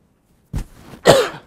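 Two sharp coughs land close into a microphone after a moment of silence, the second louder and rougher, in a quiet room during an accounting lecture.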